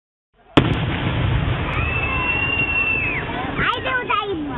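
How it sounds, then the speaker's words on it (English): Fourth of July fireworks burst with a sudden loud boom, followed by sustained crackling, rumbling and whistling streaks, with crowd voices mixed in. "The fireworks?"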